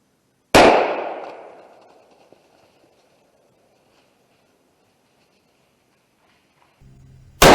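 A single rifle shot cracks out during a West Virginia opening-day deer hunt, loud and sharp, then echoes and rings away over a couple of seconds into near silence before a brief rustle and thump at the end.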